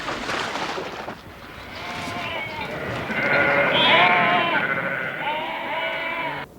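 Sheep bleat repeatedly in a wavering chorus, fairly close and loud, over steady outdoor background noise.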